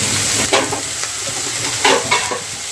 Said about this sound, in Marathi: फ्राय करून घेऊया